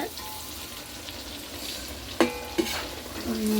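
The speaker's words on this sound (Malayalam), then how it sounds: "മീനച്ചാറ് വേണ്ടിയുള്ള മീൻ ഫ്രൈ ചെയ്തുകൊണ്ടിരിക്കുകയാണ്" Fish coated in masala frying in a pan, a steady soft sizzle throughout, with two sharper clinks of a utensil against the pan near the end.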